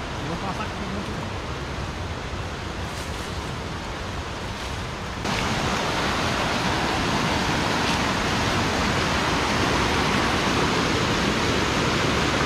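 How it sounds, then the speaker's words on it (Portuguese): A waterfall gives a steady, dense roar of rushing water that grows louder midway and then holds constant, with no clear voices over it. "a parte da cachoeira lá tá lá em cima lá, ó"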